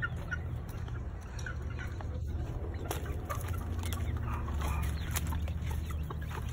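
Hens and roosters (stags) cluck and chatter in a pen, a steady flock murmur with scattered louder clucks and no talk.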